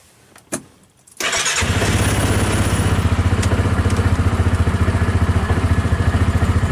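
A Cub Cadet Challenger lawn tractor engine cranks briefly, catches, and settles into a loud, steady chugging idle close by.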